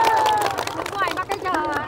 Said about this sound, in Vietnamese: cho cháu xin một tràng pháo tay được không ạ?